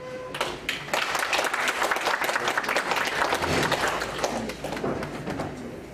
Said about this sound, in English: A round of applause again for Dr. Josephine Ojambo.